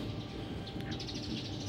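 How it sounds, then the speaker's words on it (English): Birds chirp in quick, scattered calls outdoors in Lubuagan, Kalinga, with a faint steady background hum and no voices. "Just the sound of birds."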